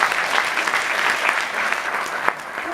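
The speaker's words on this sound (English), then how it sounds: "can we give them a big round of applause?" An award ceremony audience applauds, a dense, steady wash of clapping from many hands at moderate volume, with no voices over it.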